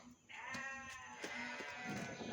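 A goat bleats in a wavering, drawn-out call, quiet and somewhat distant, with faint background noise.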